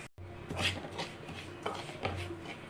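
Upma rava (bombay semolina) roasting in melted ghee in a pan, with soft scraping and stirring rubs and occasional light metallic clinks of a utensil against the pan, close and steady.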